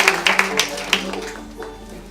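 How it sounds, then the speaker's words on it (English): A short burst of audience applause greets speaker Terence Eden at the Oxford FameLab final: several quick claps up front, then fading scattered clapping over about two seconds, close and moderately loud. "applause for Terence Eden"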